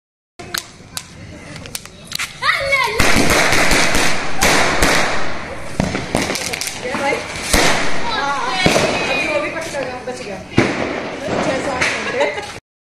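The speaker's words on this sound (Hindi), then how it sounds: "तो जी देखिए मैं भी लग रही हूँ सबके साथ पटाखे छोड़ने में" Firecrackers go off at a family festival celebration, a dense, continuous run of sharp pops, crackles and thuds close by, with people talking over the noise.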